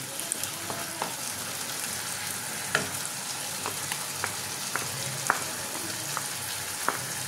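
Lentil paste hitting a hot pan with oil sets off a steady frying sizzle, broken by a few soft clicks and stirring taps from a utensil, close up and with no voices.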